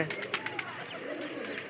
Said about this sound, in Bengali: এই দেখো পায়রা উঠছে অন ক্যামেরায় সকাল থেকে উঠছে পায়রা